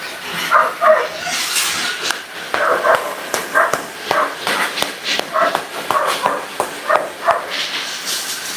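Dogs bark, yip and whimper in a steady run of short, close calls during a late-night feeding, with light footsteps and shuffling around them.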